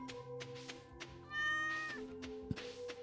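A cartoonish cat meow from the video game Stardew Valley sounds once in the middle, clear and tonal, amid soft game effects and music with a brief thunk afterward.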